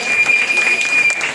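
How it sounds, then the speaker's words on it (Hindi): Applause at a community celebration and student award ceremony in India, a dense burst of clapping from an audience lasting about a second and a half, fairly loud with a steady texture and a faint tone running through it. "सुनैना के लिए जोरदार तालियां।"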